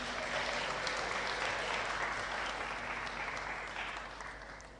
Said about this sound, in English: Let's clap for the legal profession.